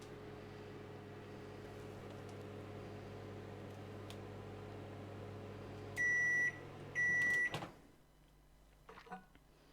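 A microwave oven melting butter for chocolate cheesecake, a steady low hum that runs for several seconds, then two loud, sharp beeps as it stops, followed by quiet with faint clatter.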